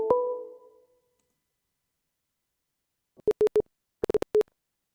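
Call-in line tone on a live synth show phone line: a short tonal burst at the start, then, after silence, two clusters of brief repeated beeps, clear and alone with no talk.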